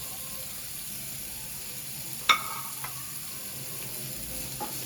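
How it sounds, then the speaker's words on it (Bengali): Onions fry in oil with vegetables, a soft even sizzle with one sharp clink of a utensil and a couple of light knocks. "এখানে আমি পেঁয়াজগুলো দিয়ে দিলাম। পেঁয়াজগুলো হতে থাকবে।"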